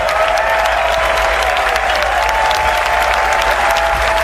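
A gallery at the Masters golf tournament in Augusta applauds golfer Scottie Scheffler, a steady, dense wall of clapping from a large outdoor crowd that stays loud and even throughout.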